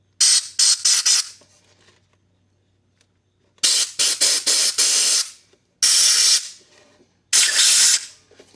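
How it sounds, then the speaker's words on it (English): An air compressor nozzle blasts air into brake parts in four loud hissing bursts, the first a quick string of short puffs, then longer sustained blasts separated by silence. "I'm just going to blow in here with the air compressor."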